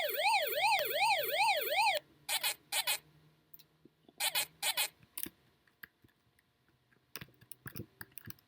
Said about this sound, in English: So that's a ghost siren.